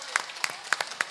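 Audience at an outdoor religious sermon in Surabaya claps in scattered, uneven bursts, a short patter of hands rather than sustained applause, with a faint voice in the background.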